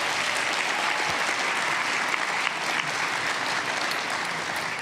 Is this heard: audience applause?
yes